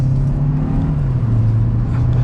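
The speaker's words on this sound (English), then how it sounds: "And we'll give it a little bit of gas here." A 2022 Kia K5 LX engine picks up speed under light throttle, a steady, loud interior drone whose pitch dips slightly and then holds as the car accelerates.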